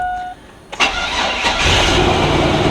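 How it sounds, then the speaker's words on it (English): Chevy truck engine cranks briefly, then catches and starts, settling into a loud, steady running idle close by with no talking. "Runs and drives, cranks every time."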